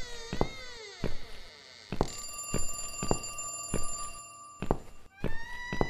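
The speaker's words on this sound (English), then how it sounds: "the phone stopped ringing." A phone rings in the horror video game The Cat Lady, a repeating electronic alarm-like bell sounding in regular bursts about once a second, loud and alone, with a brief thud near the end.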